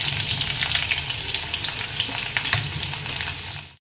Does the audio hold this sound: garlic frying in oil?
yes